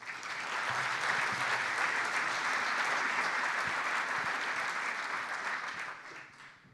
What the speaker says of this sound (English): let's all together join me in a warm applause to these amazing entrepreneurs